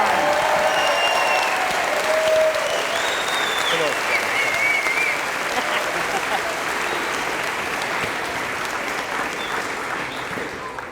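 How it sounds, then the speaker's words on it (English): A school promotion ceremony audience gives a graduating middle school class a sustained round of applause, dense steady clapping from a large crowd filling a hall, holding loud throughout and easing slightly toward the end. "if we can give one more round of applause as a congratulations to our class"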